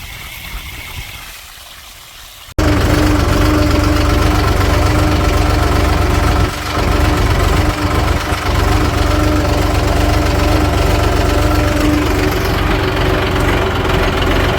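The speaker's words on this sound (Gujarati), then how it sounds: "ત્રણ મોટરો ભેગી ચાલુ કરી છે આજ અને પાણી પાવાનું ચાલુ કર્યું" Three farm water pump motors run together as water flows into a field. After a quieter start, a loud, steady engine drone and rushing water take over abruptly and continue without a break.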